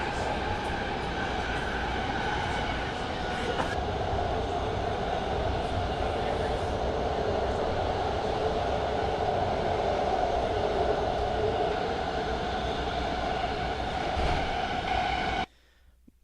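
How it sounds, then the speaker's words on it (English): Inside a moving BART train, a loud, steady roar of wheels on rail fills the cabin with a constant high whine, continuous and close for the whole stretch before cutting off abruptly near the end. "audio footage from the BART train ride, and I'm going to play a little bit of that for you"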